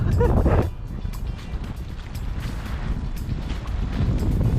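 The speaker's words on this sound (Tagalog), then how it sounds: "Lakas ang hangin." Strong wind at Calayo Beach, Nasugbu, Batangas rumbles and buffets the microphone continuously, a low roaring rush with stronger gusts at the start and end.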